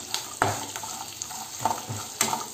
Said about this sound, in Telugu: పల్లీలు కూడా మంచిగా బాగా గోలనివ్వాలి